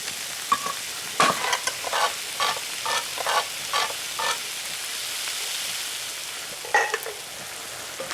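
Canned tomatoes go into a pan of sausages and peppers in Marsala sauce, followed by a steady run of close scraping, stirring strokes over a constant sizzle, with a couple of sharper clatters near the end and no voices.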